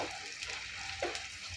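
Chicken liver frying in a pan with green chilli and turmeric, a soft, steady sizzle with a couple of brief spatula scrapes, close and quiet, no speech.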